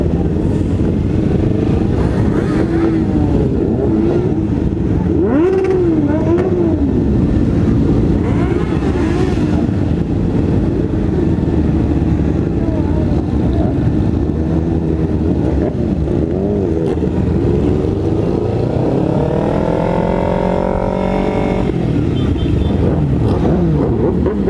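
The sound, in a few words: motorcycles riding in a group ride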